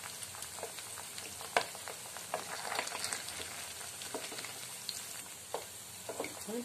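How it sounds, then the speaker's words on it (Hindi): Chilli chicken pieces frying in a pan on low flame, a continuous close crackling sizzle with scattered pops and light stirring. "देखिए सारे कितने अच्छे से फ्राई हो गए हैं"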